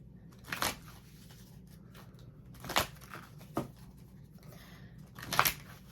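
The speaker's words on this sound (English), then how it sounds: "Let me give the cards a shuffle here" Deck of tarot cards shuffled by hand in a quiet room, a few separate riffling bursts spaced apart, soft and close with near silence between them.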